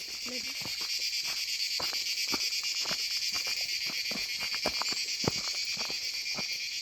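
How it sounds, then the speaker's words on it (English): Crickets chirp in a constant high, shimmering chorus in a forest near Mussoorie, Uttarakhand, with soft irregular ticks and taps underneath and no talking. "there is a sound of the crickets"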